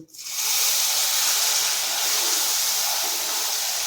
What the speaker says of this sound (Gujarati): તો હવે આપણે સોજીની અંદર થોડું દૂધ ઉમેરી અને મિક્સ કરતા જઈશું।